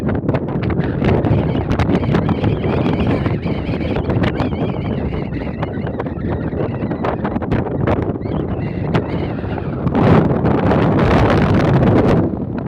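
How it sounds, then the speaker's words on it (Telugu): Strong outdoor wind buffets the microphone, producing a loud, continuous rumbling roar that never lets up and swells with a heavier gust near the end. "గాలి ఇక్కడ ఉంది కదా"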